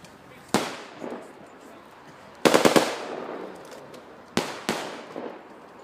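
Gunfire pops at a war reenactment, scattered single shots and a quick cluster of several reports, moderately distant and echoing in open air.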